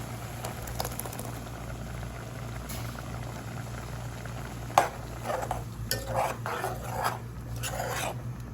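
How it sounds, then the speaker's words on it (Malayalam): Pineapple pulissery curry with ground paste bubbles in a pot, a soft continuous simmer with scattered pops and a few louder bursts toward the end, heard alone without talk. "എന്നിട്ട് നന്നായിട്ടൊന്ന് തിളക്കട്ടെ."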